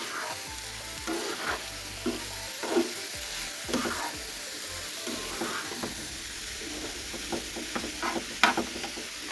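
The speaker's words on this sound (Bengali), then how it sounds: "এগুলো উল্টিয়ে পাল্টিয়ে ভালোভাবে ঘিয়ের মধ্যে একটু ভেজে নিচ্ছি" Semai vermicelli fries in ghee with a continuous soft sizzle, while a utensil turns it over in repeated scraping strokes throughout.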